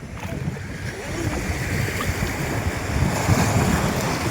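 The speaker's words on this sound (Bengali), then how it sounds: "ওই ঢেউটা দেখো কি বড়" Sea waves break and wash steadily onto a beach, a continuous close roar of surf with gusty wind noise across the microphone and no talk.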